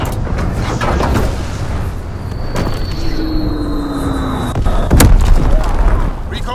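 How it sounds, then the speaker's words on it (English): A Fritz-X bomb strike in the World War II shooter Call of Duty WWII comes as a heavy boom near the end, set over constant battle rumble, a passing aircraft drone and scattered talk. "Dropping Fritz-X bomb."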